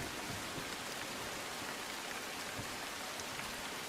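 Heavy monsoon rain in Palghar near Mumbai pours steadily, a dense uniform hiss of falling water with no pauses, faint and without voices.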